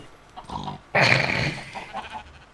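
A sheep in the Minecraft video game bleats once, loudly and abruptly, after softer game sounds. The bleat then fades into a low murmur of background game audio.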